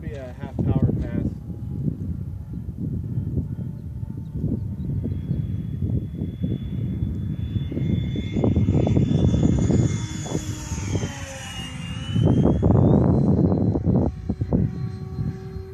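An RC model F-15 jet with twin electric ducted fans flies by with a smooth, rising and falling high whine that sweeps in pitch as it passes, while people talk nearby throughout.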